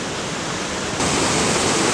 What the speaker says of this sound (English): this is called Wright Creek Falls